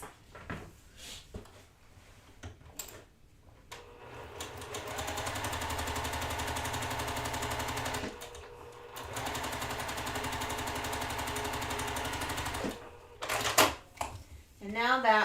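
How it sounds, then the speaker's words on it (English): A sewing machine sews hourglass quilt blocks, running in a steady sustained whir for several seconds, bracketed by clicks and handling noises and a person talking. "And now that we are sewing these down into our hourglass blocks"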